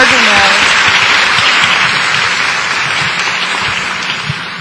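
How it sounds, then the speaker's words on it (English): An audience at a tertulia gathering claps steadily for several seconds, a dense, loud wash of hand claps that stays full throughout and eases slightly toward the end. "Let's clap our hands."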